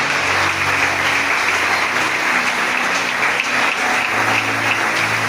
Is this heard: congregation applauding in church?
yes